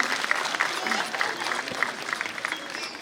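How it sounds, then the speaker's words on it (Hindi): An audience at an indoor Seance 2019 gathering claps steadily to welcome the director, with dense, moderately loud applause and crowd murmur running throughout and a voice speaking over it. "तालियों से सब स्वागत करें हमारे निदेशक का।"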